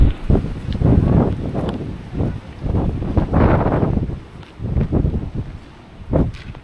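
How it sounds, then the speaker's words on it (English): Gusty wind in the Southern California desert buffets the microphone in loud, rumbling bursts that swell and fade over several seconds, with no talk. "So of course the wind is starting to get busy up here"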